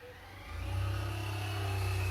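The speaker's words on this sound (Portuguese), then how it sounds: "Vai passar uma moto aqui no fundo," A motorcycle engine rises in the background and then holds a steady, droning hum as it passes by, moderately loud and with no talk over it.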